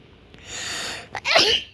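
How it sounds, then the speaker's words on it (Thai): A single human sneeze, a breathy inhale building for a moment before a sharp, bright burst, heard close and clear with no talk over it. "ขอโทษด้วยนะครับที่จามนะฮะ"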